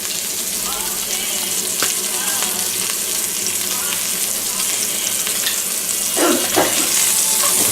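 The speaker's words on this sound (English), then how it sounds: "We'll go ahead and take them out and start browning our onions." Onions browning in a frying pan for pork in brown gravy give a steady, loud sizzle throughout, with a few brief clinks and stirring scrapes near the end.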